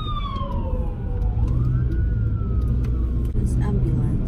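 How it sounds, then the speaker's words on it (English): An ambulance siren passes loudly, its wailing tone sweeping down, then up, then sliding down again over steady low traffic rumble, with no voices. "That's ambulance."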